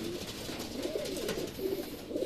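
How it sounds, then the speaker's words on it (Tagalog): Soft, low cooing from pigeons just released from their loft, a mix of white and off-color birds, quiet and somewhat distant against a faint outdoor background with no talking. "So ayan, release natin yung mga ibon."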